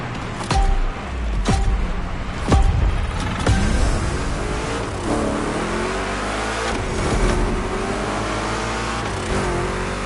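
A Chevy big block engine revs hard in The Crew Motorfest racing game, loud and close, with sharp throttle blips and gear changes early on, then a sustained high-revving roar.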